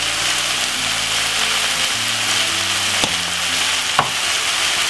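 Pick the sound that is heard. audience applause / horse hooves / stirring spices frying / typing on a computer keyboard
stirring spices frying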